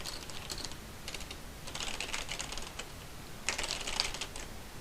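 Computer keyboard typing: quiet bursts of rapid key clicks separated by brief pauses, close and alone.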